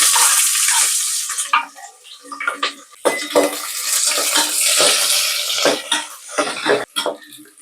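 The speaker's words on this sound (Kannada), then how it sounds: "ಸ್ವಲ್ಪ ಈರುಳ್ಳಿ ಬೇಗ ತನಕ ಫ್ರೈ ಮಾಡೋಣ ಅಂತ" Chopped onions and curry leaves frying in hot oil in a home kitchen, a steady loud sizzle with crackles and clinks of a pan and utensil, someone speaking intermittently over it.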